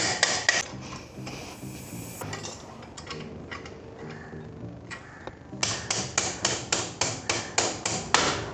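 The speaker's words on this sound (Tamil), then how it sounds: "அந்த சைடு வந்து வீல் ஆக்சலை தட்டினா வீல் ஆக்சல் வந்து அப்படியே" A wheel axle is tapped through a Pulsar 220F motorcycle wheel: metallic knocks and scraping at first, then a quick run of about ten evenly spaced, close, sharp taps near the end, with no voices.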